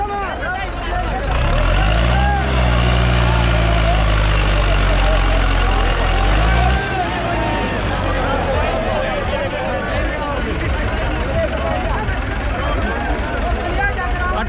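A Farmtrac 6055 tractor at a harrow competition, hauling two harrows while stuck, roars with a loud, deep, steady engine drone that swells and then settles into a rough running rumble, with voices in the background.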